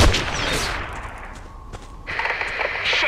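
Sniper fire in the PS2 shooter Black: a few sharp, loud gunshot cracks with ringing echoes, separated by quieter stretches of low battlefield ambience, the last shots landing close together near the end.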